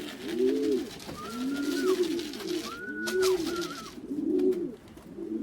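A young racing pigeon coos close by in a loft, giving several soft, rolling coo phrases in a row with brief gaps between them.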